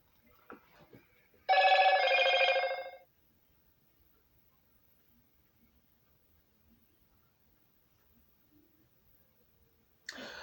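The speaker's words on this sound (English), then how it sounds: "Nope, still got a notification." Phone notification sound, a single bright electronic chime burst lasting about a second and a half in a quiet room, followed by near silence and a faint second sound at the end.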